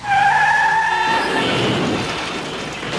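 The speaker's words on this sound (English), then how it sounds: "Iggy throws the car into gear and guns it" A car lurches into gear with a loud engine rev and a sharp tire squeal that fades into a rough skidding roar, close and without voices.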